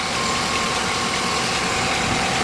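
A 2014 Chevy Tahoe PPV engine idles steadily nearby, a constant even rumble and hum with no voices.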